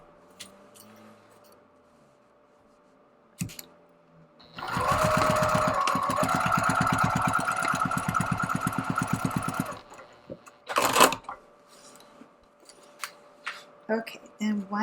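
A sewing machine runs in a steady mechanical burst of about five seconds, back stitching and forward stitching across duffel bag handles, with shorter stitching bursts and handling noises after a stretch of quiet.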